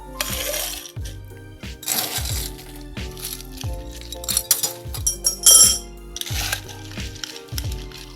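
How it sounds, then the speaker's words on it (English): Ice being stirred in a mixing glass for a cachaça Negroni, giving repeated bright clinks and clatters in an irregular rhythm, close up and fairly loud with no talking. "then we are going to add some ice and stir"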